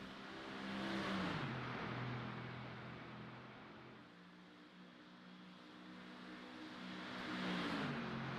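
Race car engine in a BMW sim racing game on the Nordschleife, a steady droning whine that rises and falls in pitch as the car accelerates and shifts, continuous and fairly loud with no talk.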